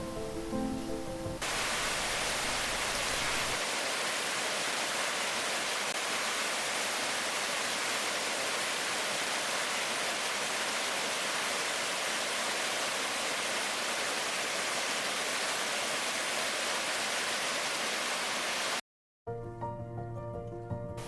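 Cascades near Virginia Falls in Glacier National Park give a steady, loud broadband rush of falling water that continues unbroken for most of the stretch, then briefly cuts out before a quieter tail.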